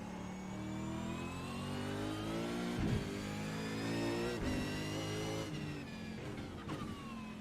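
A race car in the iRacing simulator revs with a smooth rising engine whine through gear changes, with brief shift breaks and a steady strong drone throughout.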